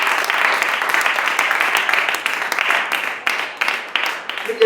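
Church congregation clapping together during a Hindi-language sermon, a dense, steady wash of many hands close by that thins out and grows uneven toward the end.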